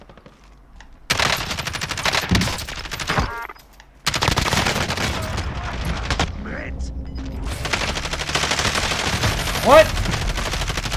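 Rapid automatic gunfire in a nighttime Call of Duty: Warzone duos battle royale match, loud bursts with brief gaps and a dropout, close and dense, with a player briefly speaking.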